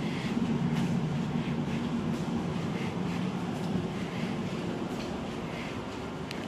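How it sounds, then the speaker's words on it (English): Steady low rumble and hiss of a London Overground train carriage in motion, nearly empty, continuous and fairly loud, with faint rattles and no one talking. "So I'm taking this train to Wembley Central."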